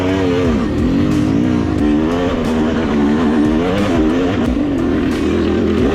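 A motorcycle engine revs hard and loud while climbing an uphill mountain trail, its pitch rising and falling continuously and close by.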